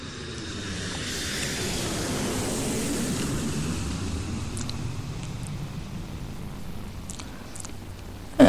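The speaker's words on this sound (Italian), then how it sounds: "E dai, in fretta che prendiamo l'aereo un'altra volta." Airplane sound effect: a broad, steady jet-engine roar that swells and holds for several seconds before slowly thinning out, with no voices over it.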